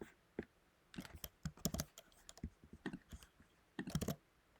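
Keys clatter on a computer keyboard as a domain name is entered during an Azure Marketplace setup, coming in quick irregular bursts of clicks with short pauses between them, close and fairly quiet with no talking.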